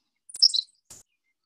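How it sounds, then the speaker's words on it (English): A Henslow's sparrow gives a short, sneeze-like 'pst' call, a brief high chirp followed a moment later by a second faint burst, heard alone against silence. "That's it, just that little pst."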